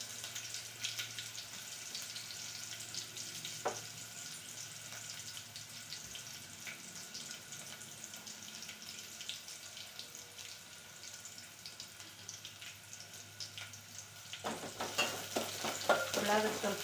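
Half an onion frying in a pan gives a continuous close sizzle with occasional stirring scrapes and a louder burst of clatter toward the end; no one speaks.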